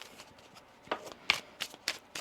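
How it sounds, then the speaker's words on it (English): Oracle cards being shuffled by hand, soft close riffling and flicking bursts in an irregular rhythm with brief gaps between them. "One more shuffle."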